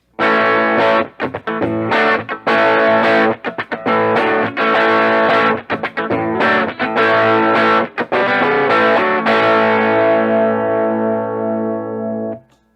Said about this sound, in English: with this overdrive being set so lightly, it's not producing a lot of overtones